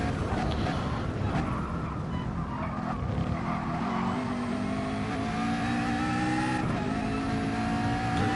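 Racing cars in GT Sport accelerating hard, engines howling close and continuous with rising revs and gear changes, tires faintly squealing, a commentator's voice partly audible underneath.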